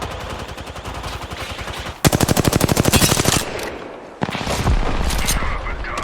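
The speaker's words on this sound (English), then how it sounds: "The enemies are shooting at me." Enemy gunfire in a shooter video game, rapid automatic bursts that are loud and close, rattling in long strings with short gaps.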